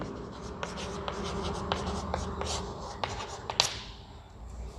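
A pen scratches across paper while a letter is written by hand, with quick faint strokes and taps in a quiet room.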